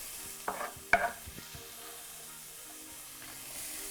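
Onion and broccoli for a ham and cheese quiche hit a pan: a couple of sharp clatters and stirring knocks, then a soft, low sizzle that continues quietly.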